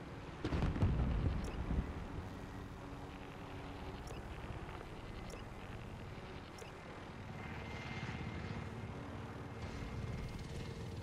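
Steady helicopter rumble with a rotor-like drone throughout in Call of Duty: Modern Warfare, louder at the start, then a continuous engine hum with a faint higher whine and occasional clicks.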